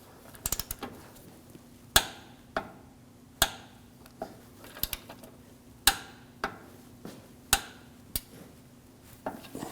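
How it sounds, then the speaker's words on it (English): Sharp, irregular metallic clicks of a ratcheting torque wrench tightening strut mount nuts on a 2001-2009 Volvo S60, close and distinct against a quiet background. "The nuts, we're going to torque these to 48 foot-pounds and then an additional 60 degrees."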